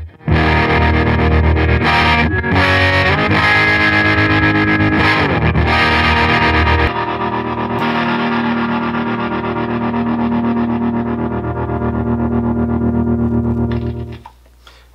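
An electric guitar roars loud through a '68 Deluxe Reverb amp, thick distorted chords ringing out, then a long sustained note that fades after about fourteen seconds.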